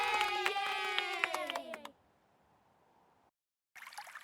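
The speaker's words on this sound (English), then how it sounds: "Did that applause fire?" A short burst of cheering and clapping from a crowd, played as a livestream sound alert, with a rising whistle-like tone, cutting off abruptly after about two seconds.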